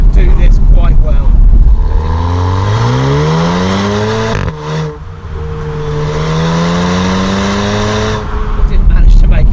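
2018 Audi TT accelerating hard through its gears, a loud close exhaust note that rises in pitch, drops with an upshift, then climbs again, with talking over it.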